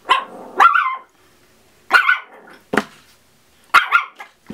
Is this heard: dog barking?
yes